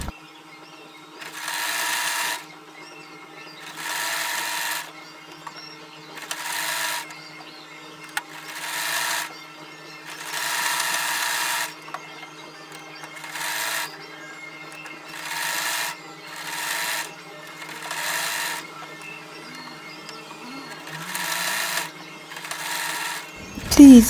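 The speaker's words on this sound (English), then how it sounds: "you sew it round, all round, as you can see me doing" A sewing machine stitches round the edge of a fabric hair bonnet in about ten bursts of a few seconds each, with short pauses between them. It runs steady and close, with no talk.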